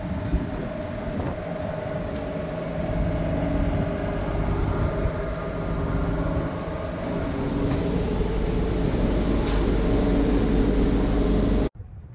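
A 2016 Gillig BRT city bus on a Metro Detroit route drives with a steady engine drone and road rumble inside the cabin, the hum rising slightly as it moves, then cutting off abruptly at the end.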